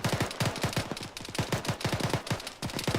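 Rapid automatic rifle fire from a house rattles out in a military squad-training game, repeated sharp bursts in quick rhythmic strings across the whole stretch, loud and close.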